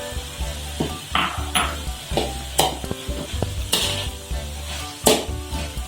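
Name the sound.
stirring pastel filling with spring onions in a pan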